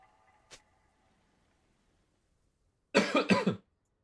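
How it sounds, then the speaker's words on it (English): A streamer coughs twice in a close, harsh burst after a near-silent stretch broken only by one faint tick. "Apologies for the coughing."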